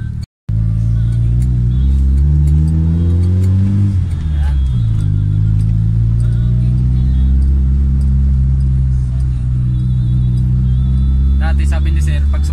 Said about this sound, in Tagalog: test drive na namin mga sir yung ano, yung Corolla na XE